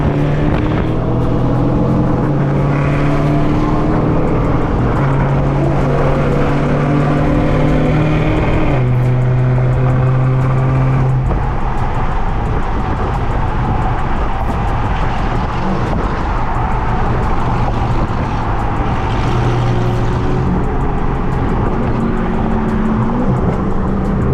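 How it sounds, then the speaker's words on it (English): A loud Ferrari F8 Tributo engine revving and droning steadily throughout a drive, with pitch rising and falling as gears change. "the F8 Tributo right here, Ferrari. This thing's insanely loud"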